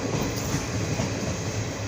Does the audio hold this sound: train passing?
yes